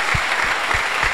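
Church congregation at a thanksgiving service clapping together in a steady rhythm of a few beats, close and fairly loud, with crowd murmur under it.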